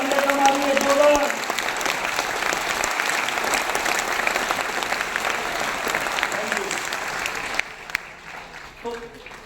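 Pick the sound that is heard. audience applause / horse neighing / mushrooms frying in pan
audience applause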